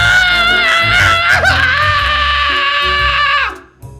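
One person gives a loud, sustained high-pitched scream during a Filipino film scene. It lasts about three and a half seconds, then cuts off abruptly.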